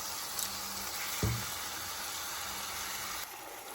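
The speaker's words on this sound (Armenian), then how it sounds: "Ուրեմն արդեն 7 րոպե ես տապակում եմ միսը" Minced meat fries in a pan with a steady, close hissing sizzle. A single clunk, like a utensil against the pan, sounds partway through.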